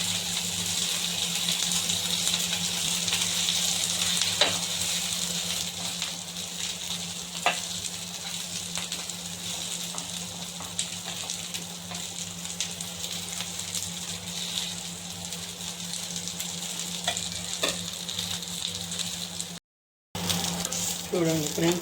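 Mutton chops frying in oil in a home kitchen pan, a steady, even sizzle with occasional soft clinks and stirring noises, continuous and close, broken by a brief cut near the end.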